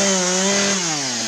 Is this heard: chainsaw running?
yes